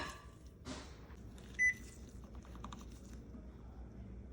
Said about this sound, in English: Now we will put the cake mug into the microwave.